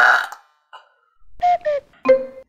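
A person's burps, one loud belch at the start followed by a few shorter, tonal burps after brief pauses, close and clear with no talking.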